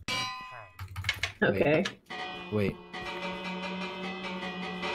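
A villager bell in the Minecraft video game rings out in loud metallic clangs with a long shimmering ring, a short voice speaking briefly among the strikes.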